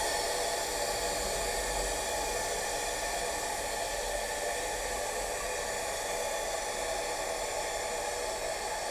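A S.A.M. 1200 air-powered motorcycle lift lowering, a continuous loud hiss of escaping air that holds steady and even for the whole stretch, close by with no talk.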